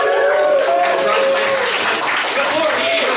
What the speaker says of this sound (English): give a massive, massive round of applause for our final act of the evening and of the year, Mr. James Nolan!